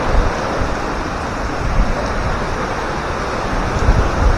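Typhoon Bebinca batters a Philippine coast with a steady, loud roar of wind and surf, broadband rushing with gusts swelling throughout, buffeting the microphone and never easing, with no voices.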